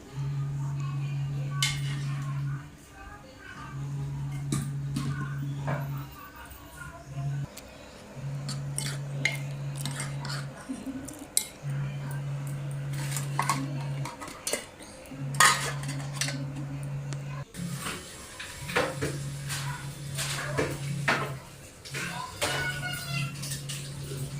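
Steel dishes, pots and cutlery clattering and clinking in a home kitchen while tea and breakfast utensils are washed, sharp irregular clanks throughout, with a steady hum and someone talking at times.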